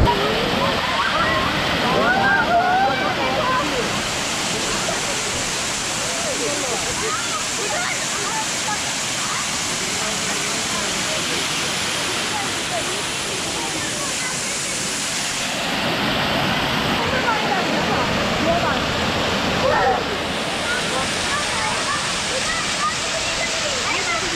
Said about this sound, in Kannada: ವಾಟರ್ ಫಾಲ್ಸ್ ಅನ್ಬೋದು ಚಾರ್ಮಡಿ ದೊಡ್ಡ ವಾಟರ್ ಫಾಲ್ಸು.